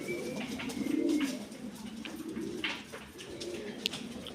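Pigeons coo softly inside a coop, low repeated calls overlapping in a steady murmur with occasional faint chirps, close by and with no talking.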